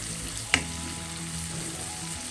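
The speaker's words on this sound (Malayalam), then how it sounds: "നമുക്ക് ഈ മീഡിയം ഫ്ലെയിമിലിട്ട് തുറന്ന് വെച്ച് 1 മിനിറ്റ് ഒന്ന് വഴറ്റിയെടുക്കാം" Green bean mezhukkupuratti stir-fried uncovered in an open pan over a medium flame, giving a steady close sizzle with one sharp clink of a utensil against the pan near the start.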